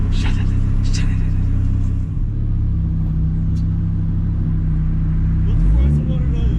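Audi B5 S4 with a swapped AAN five-cylinder engine, a loud, steady low rumble with a rise in revs near the end, heard from inside the car under occasional voices.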